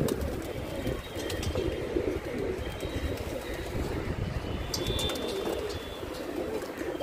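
Pigeons coo in low, soft, repeated calls around a loft where the birds are beginning to fly, with faint chirps and a steady background rumble throughout.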